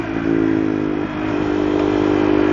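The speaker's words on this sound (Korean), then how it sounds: "이렇게 빠르게 기어를 탁 내리면서" A KTM Duke 390 motorcycle engine drones steadily and close while the rider drops gears quickly, with a slight dip in the note partway through and no talking.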